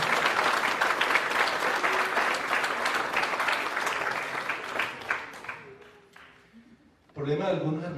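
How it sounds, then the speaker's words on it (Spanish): A church congregation applauds steadily during a Spanish-language sermon, the clapping fading out over several seconds before a voice starts speaking. "Un aplauso al Señor."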